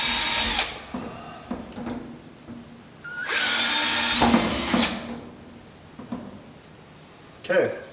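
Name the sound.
power drill drilling holes for vertical garden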